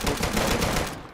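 A brief, dense burst of gunfire in the survival shooter Deadside, loud and continuous for about a second before cutting off.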